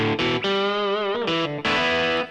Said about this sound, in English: Same guitar now, but now I'm sending it through the US combo, which is the modeling of a Fender twin reverb.